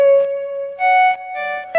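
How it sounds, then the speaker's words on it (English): Electric guitar notes played through a delay effect set for an ambient, reverb-like sound; loud sustained tones repeat and overlap in several distinct swells, each with a brief picking attack. "that's just delay."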